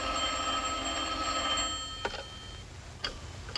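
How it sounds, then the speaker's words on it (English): An old telephone bell rings in a steady trill, loud and close, then stops about two seconds in, leaving faint clicks and room quiet. "I was asleep when the telephone rang."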